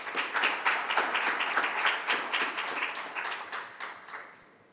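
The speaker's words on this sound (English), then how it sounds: "please give yourselves a huge round of applause." Audience applause at a literature festival event, a dense patter of many hands clapping at steady volume that gradually thins and fades out near the end.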